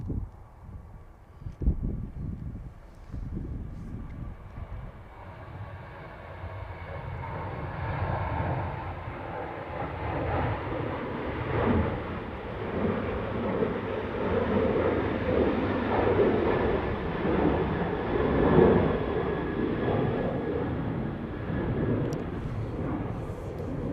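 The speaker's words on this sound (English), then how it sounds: "just about to rotate is this Ryanair" A Ryanair airliner takes off from Manchester Airport, a distant jet roar building steadily and holding loud and broad, with a sharp knock near the start.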